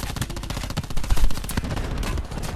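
Rapid automatic gunfire from a Switchblade weapon in Black Ops 4 Blackout, a dense stream of sharp shots with a heavier burst near the middle, loud and close, no voices.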